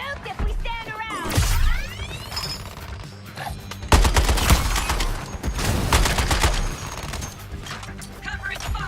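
Heavy gunfire in Suicide Squad Kill the Justice League, with loud bursts of automatic shots, a sharp blast near the middle and ringing debris, mixed with game effects and brief voices.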